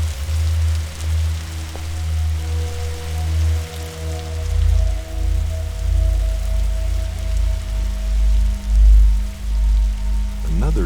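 Steady rain pours in the video game The Signifier, a dense continuous hiss with low rumbling hum and faint tonal drones beneath, holding loud throughout with no voices.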